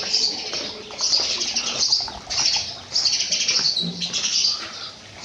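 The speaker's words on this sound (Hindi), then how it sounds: "भाई ये स्पैरोज़ देखे हुए मुझे सालों हो गए" A flock of sparrows in a village lane, with dense, continuous high chirping and twittering close by and bursts of fluttering wingbeats mixed in, no talk over it.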